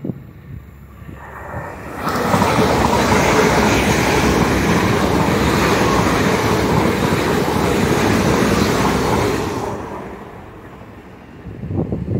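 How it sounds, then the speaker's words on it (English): A nine-coach IET train rumbles past at a steady roar for about eight seconds at Starcross, swelling in and fading out, with wind buffeting the microphone before and after. "IET going past on the other side. Nine coach IET."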